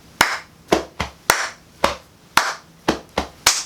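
Sharp, close hand claps played as body percussion in a steady rhythm, about eight distinct claps with short gaps, alone and without talking.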